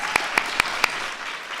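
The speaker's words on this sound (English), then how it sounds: "big round of applause" Audience applause at the 2014 Kids' State Dinner, a wash of crowd clapping with four sharp, distinct claps standing out near the front in the first second.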